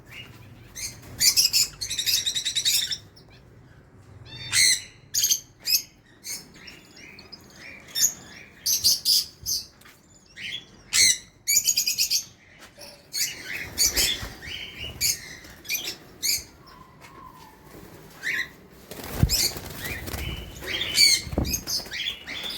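Cockatiels chirp in rapid, high bursts, with soft rustling and brief wing flaps between calls, close up and lively throughout, no voices.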